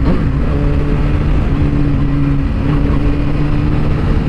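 A Suzuki SRAD 1000 motorcycle engine drones while riding, a loud, close, continuous low rumble with a steady hum that stays even and unbroken.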